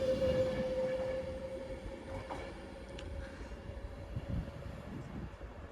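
An Avanti West Coast Class 390 train pulls out of Warrington Bank Quay station heading for Edinburgh, a low rumble with a brief high whine at first, then fading rolling noise and faint clatter.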